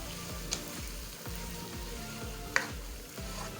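Onions sauté in a pan over a medium-low flame for dhaba-style chana dal, giving a steady, even sizzle with a soft stir or clink now and then.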